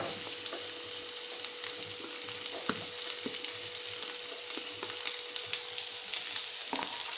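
Chopped onions fry over a high gas flame for street-cart style Hakka noodles, giving a steady, close, even sizzle with scattered soft pops and clicks throughout, and no voices.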